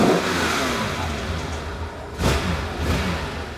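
A Ferrari 512 BB engine on a cold day roars steadily close by, then blips twice with sharp revs toward the end, with no talking over it.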